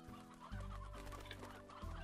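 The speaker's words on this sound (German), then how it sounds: "Das Hühner hat sich gerade geheult." Chicken clucking in the video game Slime Rancher, a few close, loud clucks over a steady low game background hum, with no talking.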